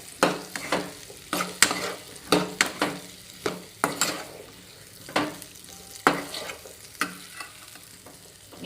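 Mixed vegetables fry in a pan for curry while a utensil stirs them in repeated sharp scraping strokes, each one a clattering burst over a soft continuous sizzle.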